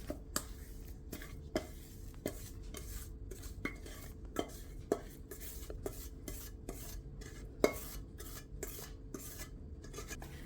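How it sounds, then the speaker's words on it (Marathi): Besan laddu mixture cooked in desi ghee is scraped out of a kadhai into a pot, giving repeated metallic scrapes and taps of a spoon against the pan at an irregular pace, close and moderately quiet. "आपण आता कढई गॅसवरून खाली उतरून घेऊयात आणि मिश्रण पातेल्यामध्ये काढून घेऊयात"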